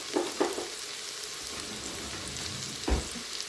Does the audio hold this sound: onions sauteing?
yes